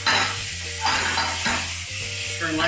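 Shallot sizzles steadily in hot butter and oil in a pan, a loud continuous crackling hiss with a low hum beneath and occasional light clinks of a utensil against the pan.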